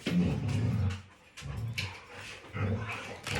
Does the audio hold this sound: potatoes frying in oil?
no